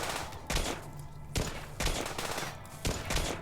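Gunfire from the Rimworld video game comes as a few sharp, separated bursts of shots, each loud and brief, with quieter gaps between them and no talking.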